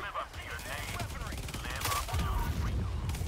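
Rapid gunfire from the game Helldivers 2, dense automatic bursts with impacts and effects layered over a busy battle mix, sustained and fairly close throughout, with a voice briefly mixed in.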